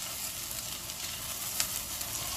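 Chopped onions sizzling in a hot pan over a raised flame, a quiet constant hiss of frying with a faint click or scrape partway through, heard close with no talk.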